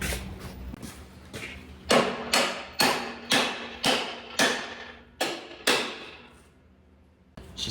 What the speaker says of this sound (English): The brass hammer.